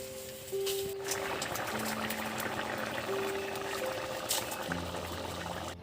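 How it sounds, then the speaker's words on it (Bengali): An egg and poppy seed curry bubbles and boils in a pan, giving a soft, continuous simmering and popping texture heard close up and quiet, with no speech. "বন্ধুরা দেখুন কীরকম টকবক টকবক করে ফুটছে"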